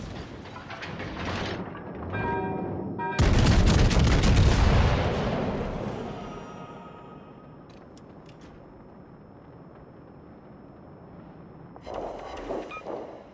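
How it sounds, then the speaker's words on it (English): Warship guns ripple-fire in World of Warships: Legends, a loud close salvo of booms followed by a long fading rumble, then a second burst of firing near the end. "ripple firing makes your guns less accurate"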